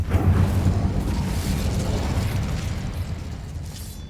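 In the Hogwarts Legacy video game, an Incendio fire spell blasts out as a loud, sustained roaring whoosh that slowly fades over several seconds.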